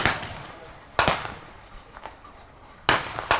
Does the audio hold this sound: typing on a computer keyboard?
no